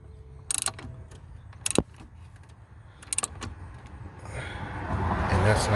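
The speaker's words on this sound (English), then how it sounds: "Over here on the bottom right, this is what I use my deep socket for." Deep socket wrench tightening a bolt on a 2008 Ford Escape XLT engine during spark plug and coil work, a few short metallic ratcheting clicks in two quick bursts, close up, followed by rising rustling and handling noise.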